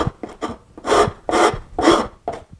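A wood rasp files across the grain of a wooden sculpture in repeated rough, raspy strokes, about five steady pushes with brief pauses between them, close and loud with no talking.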